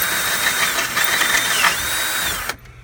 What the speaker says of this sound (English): now we've got our first hole drilled